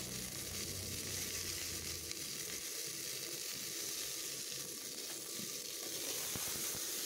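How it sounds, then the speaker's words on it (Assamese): Tomatoes fry in a pan for khichdi with a soft, steady sizzle and hiss heard from a distance, fairly faint, joined by a few light scraping touches near the end. "বিলাহী এনেদৰে গোটেইখিনি ভালদৰে ভাজি ল'ম"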